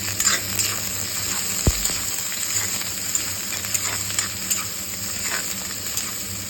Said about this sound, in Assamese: এতিয়া পিঁয়াজ দি দিছোঁ ইয়াতে।